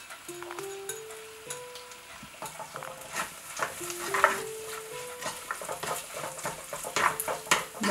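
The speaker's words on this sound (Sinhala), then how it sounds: "දැන් මේක ලුණු ටික ඩිංග හොඳට බැදෙන්න ඕනේ." Onions and curry leaves frying in a pan for a dried prawn mallum, with a steady sizzle under repeated stirring scrapes and clinks of a utensil against the pan, close and fairly loud throughout.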